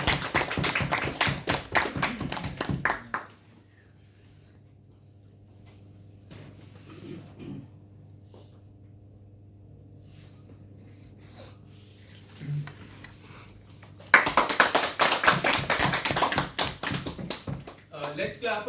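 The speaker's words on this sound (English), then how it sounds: "So let's clap for him" Audience at a Toastmasters farewell ceremony breaks into applause: a dense burst of clapping opens, fades into a quiet pause with faint room hum, then a second loud round of clapping erupts near the end.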